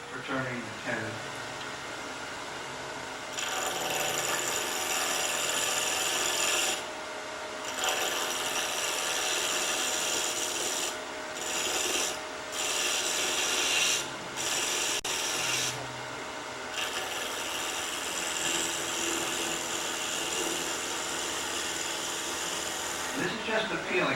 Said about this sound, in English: if there's nothing else the skew chisel's good for, it's good for turning the tenon